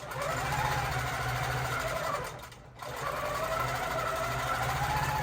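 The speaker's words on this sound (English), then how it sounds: "But you notice the machine never stops." A long-arm quilting machine stitches a pantograph pattern with a steady, dense mechanical whir and rapid needle chatter that dips briefly for a moment and then resumes at full speed.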